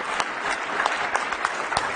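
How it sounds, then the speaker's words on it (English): A roomful of people applauds after a business talk, a brisk continuous clatter of clapping with a few sharper claps standing out, fairly close and loud. "let's give Christine a round of applause"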